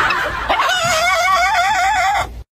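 A rooster's crow rings out loud and close, a long, wavering, warbling call that lasts about two seconds before stopping sharply, heard alone.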